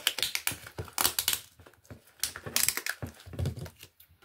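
A parcel box being opened during an unboxing, with close crinkly tearing, tapping and rustling of cardboard and packaging in irregular bursts.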